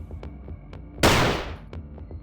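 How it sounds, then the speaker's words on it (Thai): One loud, sharp sniper rifle gunshot cracks out and decays into a long echoing tail, set against a low rumble with faint rhythmic ticks. "เสียงปืนไรเฟิลซุ่มยิงดังขึ้น"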